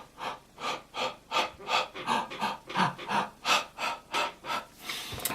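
Heavy rhythmic mouth breathing from a runner picking up the pace, about a dozen close, even inhale-exhale cycles in steady succession, loud and without speech.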